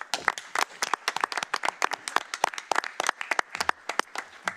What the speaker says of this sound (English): This deserves a huge round of applause.